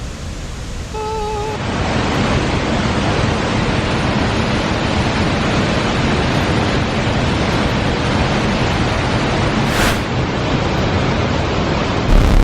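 Heavy, unbroken roar of Ban Gioc–Detian waterfall in Cao Bang, a dense wall of rushing water that stays loud and steady for the whole stretch, with a few faint tonal bird-like calls near the start.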